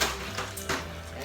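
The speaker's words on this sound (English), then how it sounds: "Then I'm gonna wash this plate off" A plate gets rinsed in a kitchen sink after cooking cube steak: running water hisses steadily, with a couple of soft clinks and scrapes of the dish close by, and no talking.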